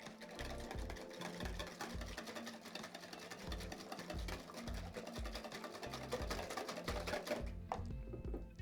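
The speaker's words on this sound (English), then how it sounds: "Straight away you want your milk. Into that put your eggs. And just whisk this all up." Milk and eggs whisked together in a bowl for muffin batter, a fast continuous rattling of the whisk with steady rhythmic pulses, close and fairly loud, no speech.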